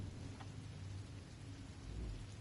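Steady heavy rain pours through a thunderstorm, with a deep rumble of thunder swelling near the end, close and continuous with no voices.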